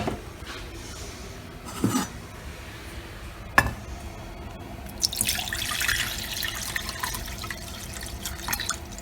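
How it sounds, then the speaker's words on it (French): Water runs from a tap into a pot, a soft steady flow with a few sharp clanks of the pot and light splashing, heard close in a kitchen. "je vais remettre de l'eau à bouillir"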